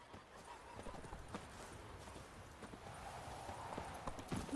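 Steady clip-clopping of horse hooves at a trotting rhythm in The Witcher 3: Wild Hunt, fairly close, with a faint whinny near the end and no talking.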